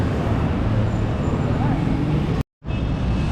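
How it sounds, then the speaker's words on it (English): Dense city road traffic in Nicaragua, a steady broadband roar of engines and passing vehicles that continues loudly, then drops out abruptly for a moment near the end before resuming. "Lots of traffic, as you can hear and see."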